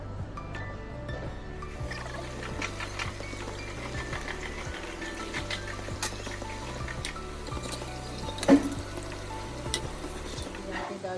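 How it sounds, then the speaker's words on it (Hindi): Food fries in hot oil in a kadhai, a soft, continuous crackling sizzle close by, with faint clinks and a steady low hum underneath and one brief sharper knock partway through. "डाल दे कढ़ाई पे, अभी इसको थोड़ा ब्राउन ब्राउन होने दे के निकल देगा।"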